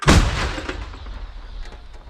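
An American 105 mm M101 howitzer fires a single round: a sharp, loud blast at the start, then a long low rumble that slowly fades.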